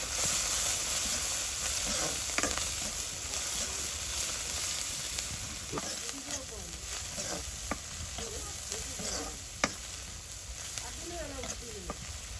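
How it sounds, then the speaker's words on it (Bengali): Small isha river fish frying in hot oil in a village kitchen, a steady close sizzle and hiss with occasional scraping stirs and a few sharp pops. "ইসা মাছগুলো আগে একটু ভাজি করে নিতে হবে"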